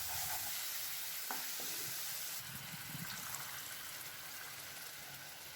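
Egg masala curry gravy sizzles in a hot pan as it is stirred, with a steady frying hiss and a few soft scraping clinks, close by, with no speech.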